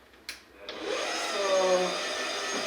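An electric mixer runs on low speed, setting 1, through wet cookie dough, a steady motor hum with a whirring drone that starts after a couple of soft knocks and holds evenly to the end.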